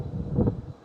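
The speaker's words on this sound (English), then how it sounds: "it is a bit windy" Wind buffets the microphone on a beach on Kefalonia in January, a low rumbling gust that swells briefly and fades within a second.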